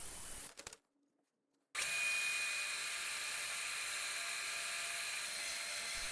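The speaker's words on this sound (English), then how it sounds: "all of the rings go through the drum sander so that they are completely flat on both sides" Segmented wood rings cut from pallet wood pass through a drum sander, a loud, steady mechanical roar with a high whine. It cuts out briefly near the start, then resumes and runs evenly to the end.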